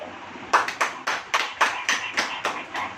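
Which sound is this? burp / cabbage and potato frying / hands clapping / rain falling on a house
hands clapping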